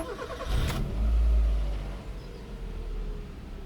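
A Mazda 323F starter whirs briefly before the engine catches with a deep, loud surge, then settles into a steady low idle rumble close by. No talking.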